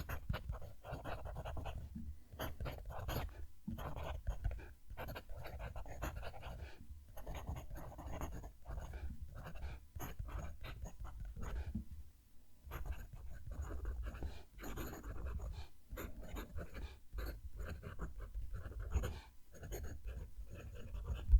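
A fountain pen scratches across paper in close, continuous strokes with short pauses between words, a faint dry rasp throughout.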